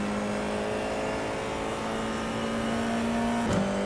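Race car engines in a sim racing game played in VR with a 21-car grid hold a steady, loud droning tone that shifts pitch briefly near the end, alone without talk.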